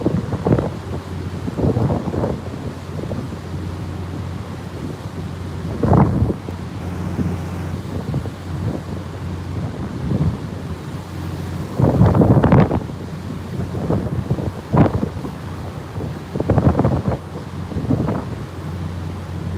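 Strong hurricane wind from Hurricane Sally's back eyewall in Gulf Shores, Alabama, roaring and buffeting the microphone in heavy, continuous gusts with sharper blasts recurring throughout.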